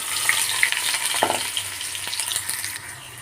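Chopped shallots sizzle steadily in hot coconut oil for a prawn curry, a close, continuous crackling fry with small pops and one louder burst partway through.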